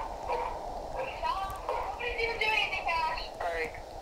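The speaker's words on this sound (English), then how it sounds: "I hear just, like, barking in the back" A dog barks in the background behind a casual video-game session, yips and bow-wows popping up faintly under near, continuous chatter between players.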